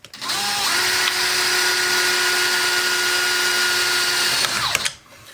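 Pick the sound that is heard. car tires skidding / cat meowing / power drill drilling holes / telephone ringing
power drill drilling holes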